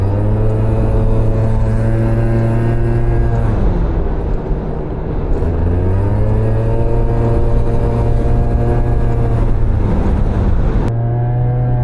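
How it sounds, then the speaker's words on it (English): A Yamaha two-stroke scooter with a Technigas pipe and Malossi 125 cc big bore kit revving hard, a loud buzzing whine that climbs, drops off and rises again, close and alone. "How can you not love the sound of a 2-stroke?"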